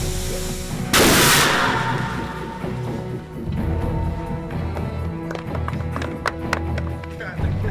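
A Jericho missile test explosion staged on a film set at Lone Pine for Iron Man: one sudden loud blast, then a long rumbling roar with scattered crackles and debris.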